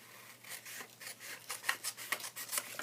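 Scissors snipping through a paper template for a soap box, a quiet run of short crisp cuts in steady rhythm, close and alone.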